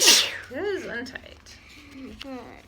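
A single loud, sharp sneeze bursts out at the start, close by, followed by someone talking.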